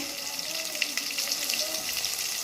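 Chopped tomato and chili powder sizzling steadily in a hot pan for a soybean curry, a close, continuous crackling fry with faint utensil scrapes and no talking.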